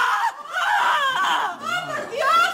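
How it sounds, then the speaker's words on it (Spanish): A woman's shrill, wavering screams, loud and close, filling nearly the whole stretch in drawn-out cries with brief breaks, mixed with sobbing, laugh-like vocal sounds. "¿Y esos gritos?"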